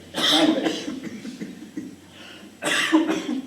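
A person coughs in a short burst, pauses, then coughs again, close and clear.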